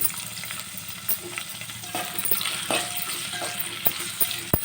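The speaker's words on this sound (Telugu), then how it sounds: "ఇప్పుడు ఆనియన్స్ అయితే బ్రౌన్ కలర్ వచ్చే వరకు వేయించుకోవాలి" Onions frying in a pan until brown give a steady, close sizzle and crackle, with a few sharp stirring clicks and scrapes near the end and no talk.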